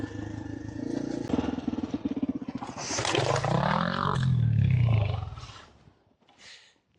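A vehicle drives over volcanic rock in the Argentine Andes highlands. Its engine roars close by over a steady rattle from the rough ground, surges louder midway, then fades away near the end.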